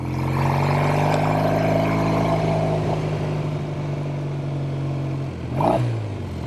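A 1970 Triumph TR6R motorcycle engine while riding, a close, steady droning hum that eases off briefly before a quick rev near the end, with no talk.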